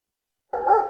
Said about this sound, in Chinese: 车里有狗叫，快抓住他！